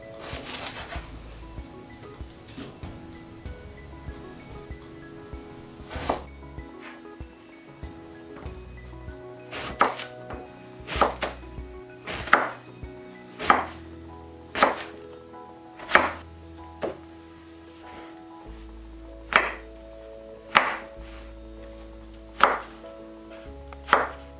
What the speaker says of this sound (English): finally just to chop the aubergine into kind of bite-sized chunks